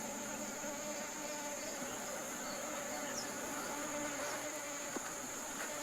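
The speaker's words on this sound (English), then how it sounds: "a swarm of tiny bees protects its honey-filled hive" A faint, continuous buzzing of a swarm of tiny bees guarding their hive in a jungle tree hums steadily in the background, like bees swarming at a distance.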